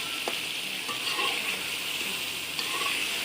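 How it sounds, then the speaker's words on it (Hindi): Beef is stirred in a pan with turmeric, salt and red chilli for a degi beef korma, a steady, close frying hiss with soft scraping stirs and a few light clinks. "अब इनको अच्छी तरह से मिक्स कर लेंगे"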